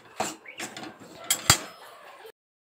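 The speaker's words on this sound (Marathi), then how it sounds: "तर आता आपण हा हळूहळू भाजून घेऊया कमी पॉवरवर" Wheat flour roasting in oil in a pan over low heat is stirred with a utensil, giving close, irregular scrapes and clinks against the pan with no talking.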